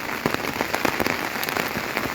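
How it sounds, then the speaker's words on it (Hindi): Heavy, steady rain falls in Shimla during a spell of continuous downpour and landslides, a dense hiss of drops on surfaces with scattered sharper spatters, close and loud throughout with no voices. "क्योंकि लगातार बारिशें हो रही हैं"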